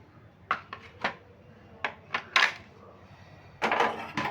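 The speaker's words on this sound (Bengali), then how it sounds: "এবার সমস্ত শুকনো উপকরণগুলো আমি ভালো করে মিশিয়ে নেব" Dry batter ingredients, including rice flour, being mixed in a bowl for frying teasel gourd: a handful of sharp spoon taps and scrapes against the bowl at irregular intervals, close and clear, ending in a longer rubbing stir.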